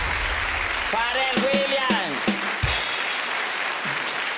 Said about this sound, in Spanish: Un aplauso para este hombre.